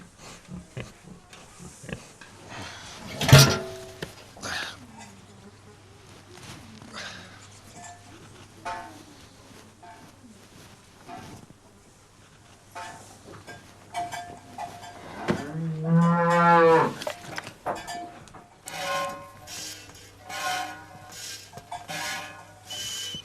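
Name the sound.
cattle and farm animals in a barn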